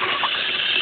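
Water from a garden hose rushes into a pool filter chamber as a loud, steady gushing roar, close up and continuous through the whole short moment.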